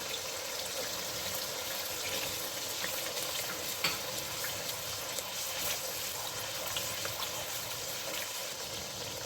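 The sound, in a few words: garlic ginger paste frying in ghee for daal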